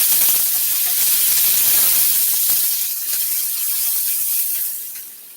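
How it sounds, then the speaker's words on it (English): Onions, tomatoes, scotch bonnet pepper and thyme frying in a hot pan give a loud, steady sizzling hiss up close that fades slightly toward the end, with no talking. "I'm just going to fry this up,"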